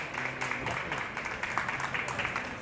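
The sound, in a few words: applause for the speaker at an event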